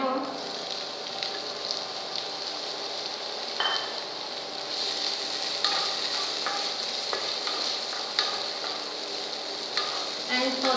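Chopped tomato sautés in a pan for poha, a soft steady sizzle with repeated stirring scrapes and clinks of a spoon against the pan throughout.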